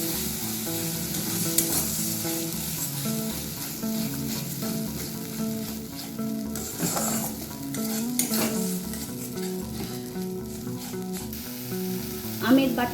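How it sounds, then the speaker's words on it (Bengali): Grated mango being stirred into spice paste that has been fried until the oil separates, making a steady, close sizzle broken by repeated scraping stir strokes throughout. "এবার এর মধ্যে আমি গ্রেট করা আমটা দিয়ে দিলাম। আবারও সবটাকে খুব ভালো করে মিশিয়ে নেব।"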